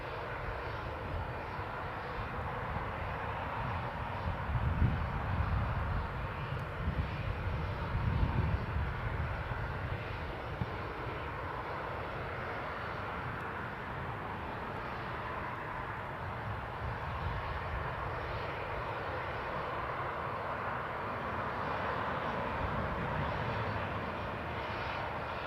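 A British Airways airliner departs Newcastle Airport, its jet engines a continuous, moderately distant roar with low rumbling surges partway through that then settle into a steady drone.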